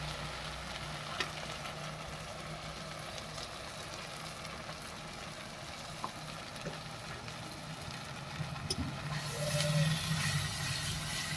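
Spice paste of ground tomato and cumin frying for a bhetki fish curry, cooked on a rooftop in winter: a steady, close sizzle and hiss with a brief louder flare near the end, no talk.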